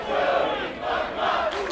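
Wrestling crowd at a WPW event, Jody Threat versus Trent Seven, raising a loud, chanting roar that rises and falls in rhythmic swells, close and filling the space.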